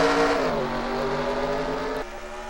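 F1 race cars at Hungaroring in a racing video game, one engine whining loud and steady, its pitch sliding down and then dropping again as it shifts gear, with no voices.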